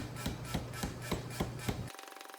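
Forging hammer dies pinching 1.5 inch mild steel at the edge to form a songbird's head: a rapid regular series of about seven heavy thumping blows, close and loud, followed by a brief quieter tail.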